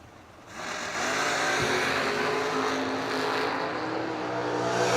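A Chevrolet S10 and a Roadster launching side by side at a drag strip bracket race, a loud roaring engine surge that builds quickly and holds a sustained high-revving blare.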